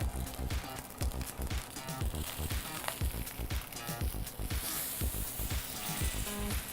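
Salmon fillet frying skin side down in a warm pan, a steady dense sizzle with crackling pops running throughout, close and fairly loud with no talk.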